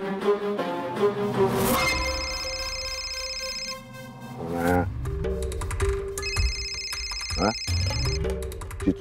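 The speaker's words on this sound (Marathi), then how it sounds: "चिचुंदरीचा फोन" A mobile phone rings with an incoming call, its melodic ringtone playing in repeated bursts amid background music and drama sound effects.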